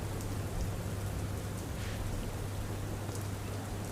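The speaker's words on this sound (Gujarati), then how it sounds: "સૌથી વધુ વરસાદ અત્યારે ખેડામાં જોવા મળ્યો હતો" Heavy monsoon rain pouring down steadily in Kheda, a dense continuous hiss of falling water with no pauses, fairly loud and close, alone without any voices.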